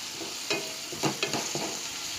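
Coriander leaves sauté in hot oil for pepper rasam with a soft, quiet sizzle, punctuated by a few light stirring scrapes.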